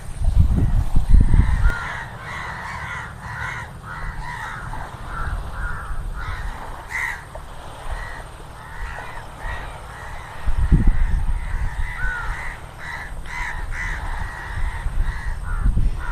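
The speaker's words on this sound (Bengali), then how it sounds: "এখানে আবার কত কাক জড়ো হয়েছে দেখুন" A big flock of crows caws beside the Chinai river near a village. Overlapping caws repeat steadily through the whole stretch, with low rumbling bursts at the start and again near the middle.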